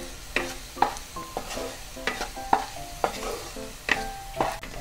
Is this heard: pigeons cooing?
no